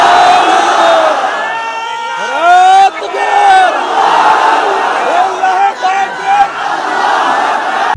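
A large crowd at a religious gathering roars the takbir in unison, loud and sustained, a chorus of rising chanted shouts repeated in waves that fill the space.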